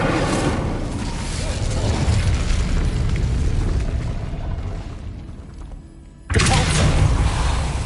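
A burst of the Incendio fire spell cast in Hogwarts Legacy: a loud, dense roaring whoosh with heavy low rumble that swells, thins out briefly, then flares up again near the end.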